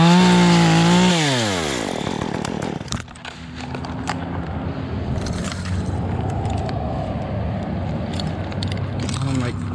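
Chainsaw cutting into a palm tree in a backyard removal job, the engine revving down at first then running steadily with loud, continuous buzzing and scattered bursts of cutting noise throughout.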